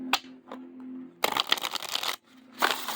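A purple card deck with lavender tones, gold edging and linen cardstock being shuffled, a short riffle burst followed by a second brief flutter, close and fairly quiet.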